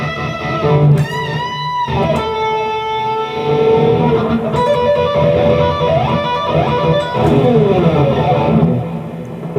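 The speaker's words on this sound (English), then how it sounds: "how to play the solo from Rock You Like a Hurricane" An electric guitar plays the Scorpions' Rock You Like a Hurricane solo slowed down, with sustained bent lead notes and vibrato, loud and close, no voice.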